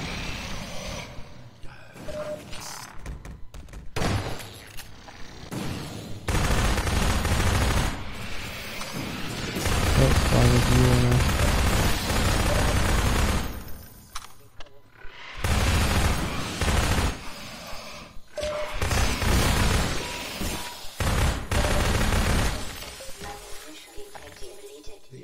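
Repeated gunfire bursts and booming shots in Half-Life 2 Episode 2 gameplay, loud and dense in rapid volleys with short pauses between, fighting zombies.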